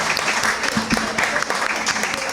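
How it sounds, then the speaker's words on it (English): Applause from a crowd at a Beer Lab event celebrating Ghostface, dense steady clapping mixed with some background voices for a couple of seconds. "So please, a round of applause for Mike and Molly"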